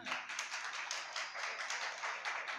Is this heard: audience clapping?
yes